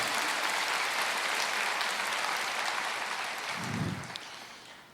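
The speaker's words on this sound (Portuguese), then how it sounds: "dê uma salva de palmas para Jesus" A church congregation applauds in dense, continuous clapping that fills the room, then thins and fades toward the end.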